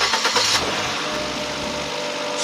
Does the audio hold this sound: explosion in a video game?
no